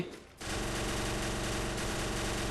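Rapid automatic gunfire in the Free Fire video game, a dense continuous burst of shots that starts abruptly and keeps going loud and close.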